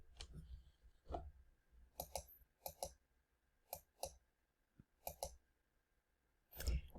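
Sparse clicks from a computer keyboard as a code is typed into a medical coding lookup, several close, distinct taps spaced irregularly over quiet room tone.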